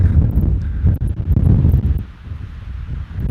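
Outdoor wind buffeting a handheld microphone, loud low rumbling gusts that swell and ease, strongest early and dropping off after two seconds.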